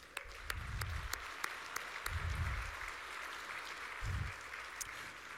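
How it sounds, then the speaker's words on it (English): A crowd at a morning event gives a round of applause for a sponsor, a steady, fairly quiet wash of clapping with a few sharper individual claps and low rumbles underneath. "I'd just like to acknowledge Rio Tinto with a round of applause"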